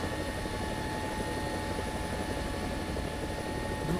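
Helicopter rotor and engine drone from the War Thunder combat game, a steady, loud, continuous whir with no talk over it.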